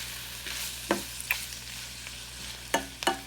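Bacon, jalapenos and onions fry together in a stovetop pan, a soft continuous sizzle broken by several sharp stirring scrapes and clacks, close and without talk.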